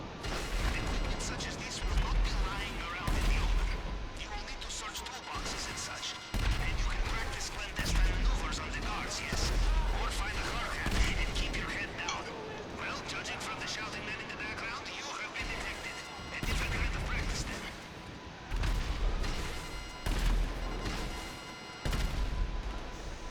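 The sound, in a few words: gunfire in video game GTA 5 Cayo Perico heist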